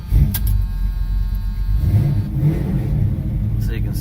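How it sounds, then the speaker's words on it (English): A second-generation Camaro/Firebird engine turns over and catches, then settles into a steady rumbling idle with a slight rev, close by, with a voice faintly under it. "So let me show you how it works. I start the car."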